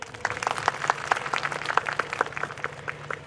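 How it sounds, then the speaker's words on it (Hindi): An audience at a stress-relief workshop in Jamnagar claps in a quick, steady rhythm, with many crisp hand claps blending into even applause that keeps going at moderate loudness throughout. "ताली बजाएं फिर"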